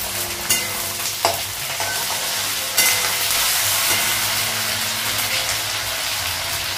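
Ingredients sizzle and fry in a pan as ginger paste and green chillies go in, with steady close crackling, a few spoon stirs and clatters against the pan, and no voices.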